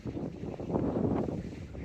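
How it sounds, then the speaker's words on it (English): Strong wind on Southbourne beach roars in a steady, close, full-bodied rush with gusty surges for about two seconds, buffeting the microphone with no voices heard. "gonna go down on the windy beach. Very windy beach."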